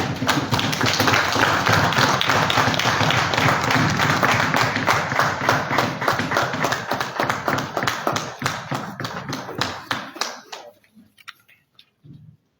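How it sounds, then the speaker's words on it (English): An audience in Uganda claps together in dense, continuous applause for about ten seconds, then it thins to a few scattered claps before dying out. "I think you can clap better than that."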